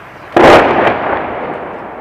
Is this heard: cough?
no